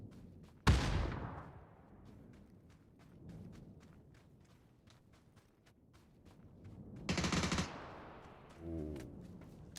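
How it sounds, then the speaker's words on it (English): Gunfire in a PUBG PC match: two loud, sharp bursts of shots with echoing tails, separated by quieter stretches of distant rhythmic thuds and footsteps, with no talking. "those gunshots may be drawing him away"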